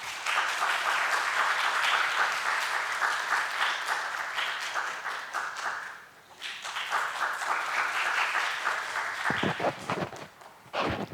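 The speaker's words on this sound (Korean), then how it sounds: "박수로 좀 모시겠습니다" An audience at an academic conference claps to welcome a speaker, sustained applause from a sizeable crowd that dips briefly midway, then resumes before scattered final claps.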